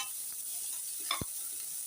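Soft, steady sizzling of orange peel being lightly sautéed in a pan, with a brief scrape of stirring partway through.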